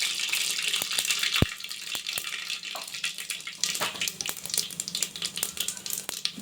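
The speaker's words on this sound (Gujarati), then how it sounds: "તેલ આપણે ગરમ થઈ ગયું એટલે આપણે એમાં રાઈ અને જીરું નાખી દેવાનું" Mustard seeds and cumin hitting hot oil for tempering rice, giving a close, continuous sizzle and crackle with scattered sharp pops and occasional utensil taps.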